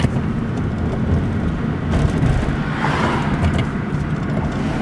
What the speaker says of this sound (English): So I'm accelerating a ton here, and it's not going.